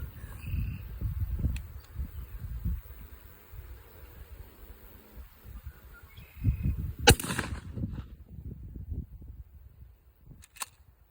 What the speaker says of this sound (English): so just fired off the turkey load here through my turkey choke